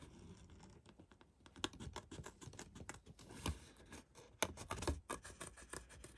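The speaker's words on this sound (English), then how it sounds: "So just cut this bee out." Scissors snipping a paper bee shape from card, a run of quiet, close crisp clicks and rustles at an uneven pace, with no voices.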